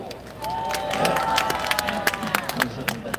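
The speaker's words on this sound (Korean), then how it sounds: "힘찬 박수!" A crowd at an outdoor prayer rally at Daehanmun, Seoul breaks into clapping and cheering, with a raised voice carrying over the applause.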